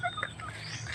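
Chickens clucking around a person as they follow along, a low steady murmur of fowl calls with a couple of brief higher squawks, close by and moderately quiet.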